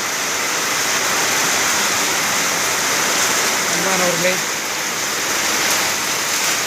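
Summer rain falls in a steady, dense wash of noise on a windy day, continuous throughout, while a voice speaks briefly.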